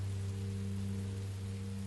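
Rain in Minecraft Story Mode hisses as a steady, even wash of falling drops over a low, droning hum, constant for the whole stretch with no voices.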